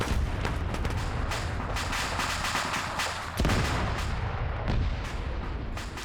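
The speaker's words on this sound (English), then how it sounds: "Sounds like an airstrike's coming in." Heavy airstrike explosions and booming artillery-like blasts in a Russian-faction military shooter game, dense and continuous, with a sharp loud impact near the middle and rumbling barrages throughout.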